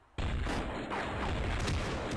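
Gunshots from a gun in the Flash video game Crazy Flasher 5, loud repeated bangs starting abruptly after a brief quiet moment and continuing in a rapid, booming series.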